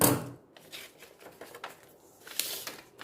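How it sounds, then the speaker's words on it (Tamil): Scissors cutting through a folded paper pattern sheet for a miniature doll dress, a series of close, crisp snips and rustles with short quiet gaps between cuts. "இதை ஃபோல்ட் பண்ணிவிட்டு இப்போ நான் கட் பண்ணிடுறேன்."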